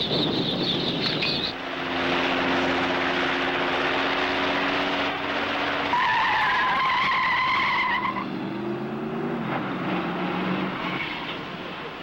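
A race car laps a fast circuit, its engine roaring loudly and continuously with rising and falling pitch as it shifts gears and brakes into a difficult high-speed corner, heard alone without talk.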